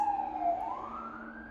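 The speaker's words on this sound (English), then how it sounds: "there's a siren going by" A siren wails steadily, its pitch dipping then rising as it passes, loud and alone with a low engine rumble underneath.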